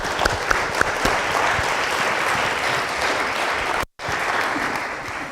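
Loud, dense audience applause in a university lecture hall honoring a speaker, sustained evenly with a brief dropout near the end before resuming.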